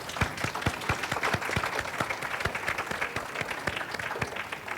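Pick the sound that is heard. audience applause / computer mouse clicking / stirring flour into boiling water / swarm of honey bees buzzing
audience applause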